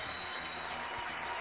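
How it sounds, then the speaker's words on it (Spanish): Applause from a studio audience on a Venezuelan television music show in Barinas, a brief, even wash of clapping that sounds somewhat distant and fairly quiet. "venga el aplauso para Humberto"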